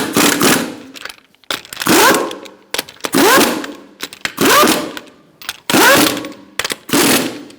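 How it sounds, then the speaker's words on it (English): An impact wrench with a 21mm socket tightens the lug nuts on a 2005-2010 Chrysler 300 wheel in about six loud, close rattling bursts, each separated by short pauses. "Using a 21mm socket, we're going to tighten up our lug nuts."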